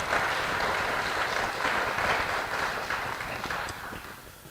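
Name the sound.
audience applause for Ballad hospital employees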